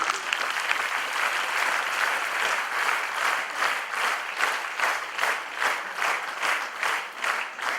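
Loud, dense applause from an audience at a corporate HR talk as people come up onto the stage, steady sustained clapping with a rhythmic pulsing in places, no voices over it.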